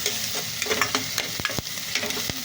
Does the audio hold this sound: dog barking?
no